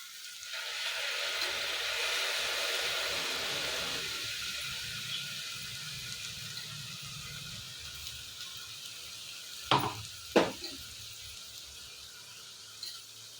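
Ground ginger garlic paste frying in a pan sizzles and hisses steadily up close, the broad sizzle settling quieter after a few seconds, with two sharp clanks of a utensil near the end.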